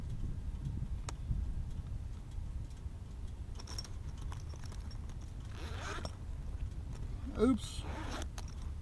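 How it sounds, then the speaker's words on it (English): Clothing zippers are zipped in a few quick, rasping pulls near the microphone, short bursts over a low engine-like rumble with faint ticks and clicks, while people talk nearby. "Too many zippers, Jim"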